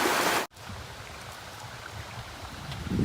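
Viles Branch Creek on the Eagle Rock Loop trail flows in a continuous, even rush of water, heard up close after a brief cut at the start.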